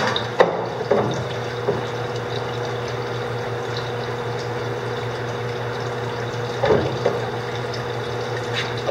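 Water pours steadily out of a geotube dewatering bag, a continuous rushing flow with a low mechanical drone and a few faint knocks and splashes.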